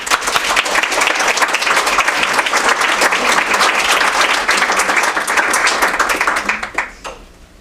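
A lecture audience gives a sustained round of applause welcoming speaker Linda Jane Holden, dense even clapping for about seven seconds before tapering off at the end.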